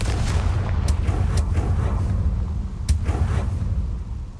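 A fire-blast spell from the video game Hogwarts Legacy bursts in a loud, dense rumbling explosion with a few sharp crackling pops within a continuous roar.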